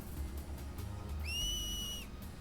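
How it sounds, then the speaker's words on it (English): A sharp finger whistle rings out from a Final Fantasy X character cheering on Blitz players, a single sustained rising tone lasting under a second over low game background ambience. "In Xanarkand, we do this to cheer on Blitz players."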